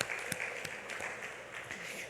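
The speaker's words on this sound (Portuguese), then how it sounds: "Uma salva de palmas." A church congregation claps together, a soft, distant patter of many hands that keeps up unbroken through the whole stretch, with no speech over it.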